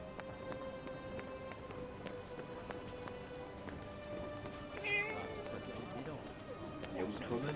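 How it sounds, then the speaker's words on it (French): A cat meows in the video game Forspoken, with a few short calls, including a brighter one near the middle, over steady game music and ambience. A person talks throughout. "Encore un miaou. Bon. Coucou le miaou."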